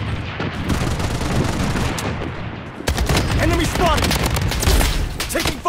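Dense gunfire in the battle royale shooter Blood Strike, loud and continuous bursts of automatic fire with heavy booms, rattling on throughout under brief in-game voice callouts.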